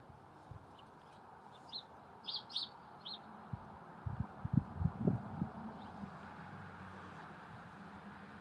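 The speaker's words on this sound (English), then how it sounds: "I hear your birds chirping." Birds chirp and tweet outdoors at a distance, scattered short calls rising in the middle of the stretch over a low steady background hum, fairly faint.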